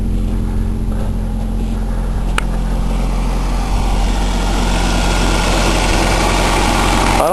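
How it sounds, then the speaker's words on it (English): A 1995 Ford Escort wagon engine runs steadily close by, a loud continuous mechanical drone with a rough idle that rises slightly toward the end as it's revved, with no talking over it. "I suppose I rev it up"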